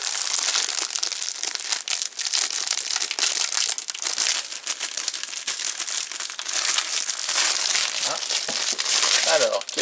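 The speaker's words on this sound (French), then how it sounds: "Hop, on va ouvrir le sachet." Plastic bag of parts for a 1.20 m Alien figurine from a Hachette collection being ripped open and rummaged through, with steady loud crinkling and crumpling close to the microphone under intermittent talking.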